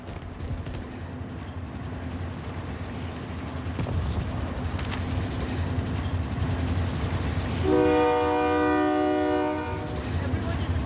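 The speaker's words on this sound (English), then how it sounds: "Train coming too." A train in a video game approaches through steady game ambience, then sounds one long, loud, multi-tone horn blast that holds for about two seconds before fading back into the background noise.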